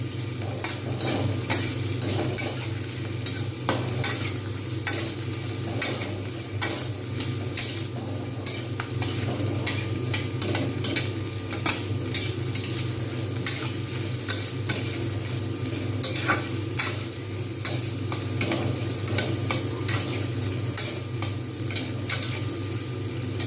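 Egg tadka frying in a pan with continuous stirring, a dense steady sizzle under repeated scraping and clinking of a spatula against the pot, close and constant throughout with no talking.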